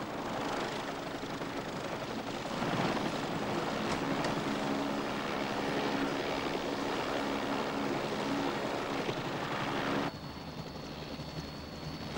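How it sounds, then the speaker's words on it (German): A loud, steady rotor and engine roar fills the recording, dropping abruptly to a lower, quieter whine near the end as an aircraft settles. "Hubschrauber gelandet"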